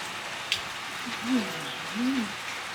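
Steady rain hisses throughout, with a brief sharp tick and two low vocal murmurs rising over the patter.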